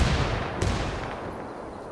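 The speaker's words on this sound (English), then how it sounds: "I had an explosion on my position." A C4 charge detonates in the Operation Vietnam video game, a loud boom whose deep rumble fades over the following second, with a sharper crack just after.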